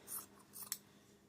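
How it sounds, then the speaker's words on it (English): Scissors snip through brown fabric meant for patching ripped jeans, two quiet crisp cuts close by, the second ending in a sharp click of the blades. "So I'm going to cut this."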